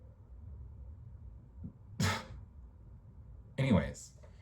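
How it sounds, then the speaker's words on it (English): Throat clearing, two short breathy bursts close to the microphone against a faint low hum, the second a little longer, with no talk during them. "I just need to clear my throat after that one"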